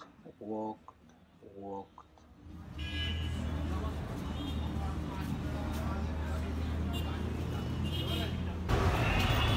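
Busy street traffic in Baghdad's old town, Iraq: a dense, steady roar of engines and vehicles close by, following a few brief spoken words at the start.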